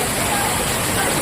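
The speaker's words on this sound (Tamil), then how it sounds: "அம்பாசமுத்திரத்துக்கு அருகிலே உள்ள பாபநாசம் அகத்தியர் அருவி" Agathiyar waterfall at Papanasam near Ambasamudram roars as a steady, dense rush of falling water, loud and unbroken throughout.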